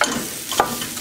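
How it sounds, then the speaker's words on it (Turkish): Diced potatoes stirred and sautéed in a pot for a potato soup, a soft steady sizzle with a brief scrape of stirring, close and alone. "Patatesler de birlikte de bir süre kavuracağım."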